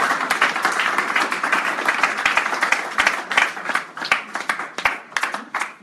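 A church congregation claps in a round of applause, dense and steady at first, then thinning into scattered, uneven claps toward the end.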